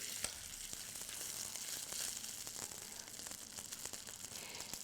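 Chicken fries in a pan with a faint, steady sizzle and scattered small pops and crackles, heard close and alone.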